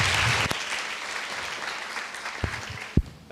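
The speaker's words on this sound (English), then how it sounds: "Let's get a round of applause for everyone up here as we start" An audience claps for a panel at a DeFi discussion event, with steady, dense applause that carries on throughout and a few sharper claps near the end.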